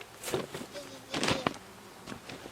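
Saskatraz honey bees from a month-old package buzz around an open hive, with passing drones swelling and fading over faint handling noises, close to the hive and with no talk.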